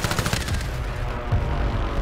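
Rapid gunfire from a battle royale video game, loud bursts of shots crackling densely over about two seconds with no voices.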